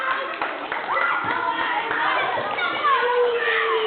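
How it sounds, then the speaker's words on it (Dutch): Children in a school gym class applaud, a dense patter of small-hand clapping mixed with excited kids' voices and chatter in a reverberant hall. "Applaus."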